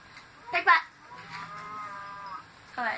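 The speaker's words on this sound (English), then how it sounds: "Where'd the cow go? I can hear you." Cow mooing in Minecraft Xbox 360 edition, a drawn-out synthetic moo with a short sharp call before it and another brief moo at the end, moderately loud with little else around.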